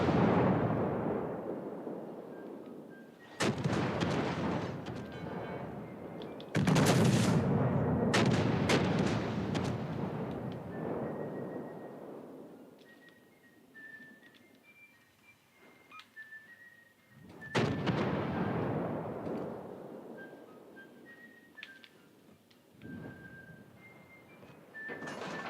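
Enemy warship guns in the naval combat game World of Warships: Legends boom in heavy, loud salvos, several deep blasts spaced across the stretch with rumbling decay and faint tonal game sounds between.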